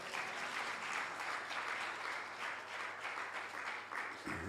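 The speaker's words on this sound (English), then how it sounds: "Can we be generous and clap until he gets here?" Soft, continuous audience clapping at an education and training event, a steady wash of many hands heard faint and distant throughout, with a low thump near the end.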